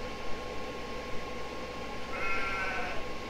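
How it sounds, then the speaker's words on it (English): A single sheep in the farming video game Farming Simulator 22 gives one wavering bleat near the end, over a constant hum of steady background noise with no talking. "As the sheep says"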